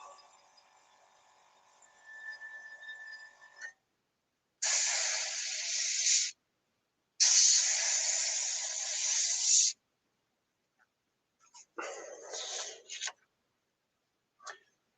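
A cheap £28 airbrush spraying in bursts: a faint opening hiss, then several loud, steady, breathy jets of a second or two each, separated by silence, ending with short sputters.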